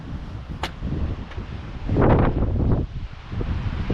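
Wind buffets a microphone on a mountain top, a loud steady roar that rises into a stronger gust midway and then eases slightly.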